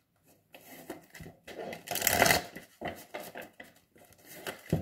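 Tarot cards are shuffled close by in quiet bursts, with soft riffling and slapping strokes that rise to one louder flurry in the middle before settling into short irregular shuffles.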